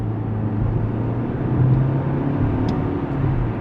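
A 2020 Nissan Altima midsize sedan with a CVT accelerating at full throttle from about 30 mph, heard from inside as a steady, droning engine hum with a slight rise in pitch over road rumble, continuous and fairly loud, with no voices.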